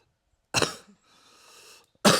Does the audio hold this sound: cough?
yes